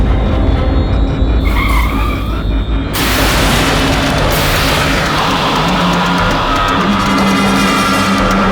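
A car skids as it brakes to a stop on a road at night in a courtroom drama, with a loud tire screech that cuts off into a heavy rumble and low boom, all at close range with no talking.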